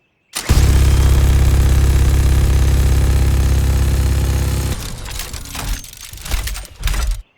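Mauga's twin chainguns in Overwatch 2 fire together in a loud, dense, continuous roar for about four seconds, then break into choppier bursts and fade.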